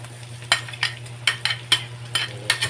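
Green mango in a pan being sautéed for ginataang mangga, with a steady low sizzle broken by about seven distinct scraping stirs of a utensil, close up and heard alone.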